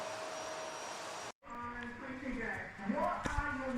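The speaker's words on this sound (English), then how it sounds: "Once I had it all done, I just gave it a really good vacuum." A vacuum cleaner runs steadily on a bare concrete workshop floor, cutting out briefly and then starting again with a whining motor tone. It is fairly loud and close, and there is no talk.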